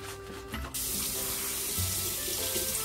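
Tap water runs steadily and close by while rubber gloves are rinsed at a sink, starting softer and then gushing louder after the first moment, with no talking.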